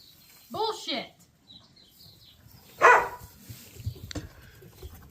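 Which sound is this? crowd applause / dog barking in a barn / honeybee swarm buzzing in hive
dog barking in a barn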